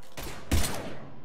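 Mass Effect 3 gunfire: two quick, close bursts of shots, the second louder, heard alone within about a second.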